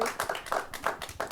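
Audience applause for a woman being thanked at an event, a steady wash of many hands clapping, close and fairly loud throughout, with no speech over it.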